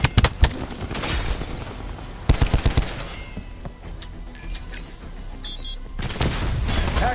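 Hellstorm missile strikes in a first-person shooter game land as a flurry of loud, sharp blasts and rattling bursts, with a second cluster of heavy impacts midway and a rumbling tail trailing between them.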